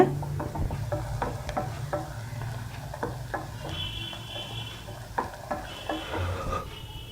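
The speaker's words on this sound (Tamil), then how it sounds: "வெங்காயம் கொஞ்சம் பொன்னிறம் ஆகிறது வரைக்கும் கிளறி விட்டுக்கோங்க." Onions fry in oil for a channa masala gravy while a spatula stirs them. A steady low sizzle runs under repeated close scraping strokes, with no voices.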